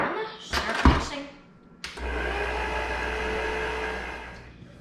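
Electric mixer churning cream into butter, a steady motor whir with a sloshing low rumble that starts after a few knocks and handling sounds and runs on at even loudness.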